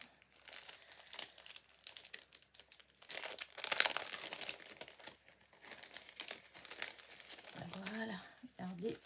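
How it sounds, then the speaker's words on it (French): Paper being crinkled and torn while a paper envelope is opened, sharp rustling bursts close by, with someone talking over much of it. "j'enlève l'enveloppe"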